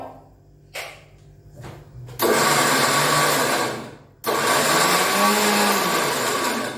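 A mixer grinder blending chutney starts in short bursts, then runs loud and continuous, stops briefly, and whirs again at full power.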